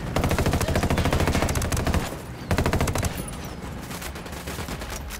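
Sustained automatic gunfire in a tactical shooter game, Ghost Recon and Rainbow Six Siege, with loud rapid bursts, a brief pause, then another long burst followed by quieter scattered shots.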